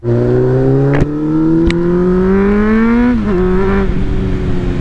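A 2011 Honda CBR 600 F sport motorcycle engine revs loudly nearby, its pitch climbing steadily, dipping briefly, then holding high as it runs hard on its own.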